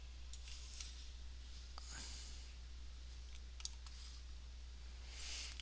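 A handful of faint, scattered computer mouse clicks sound over a low electrical hum as a file is clicked and dragged, quiet and close.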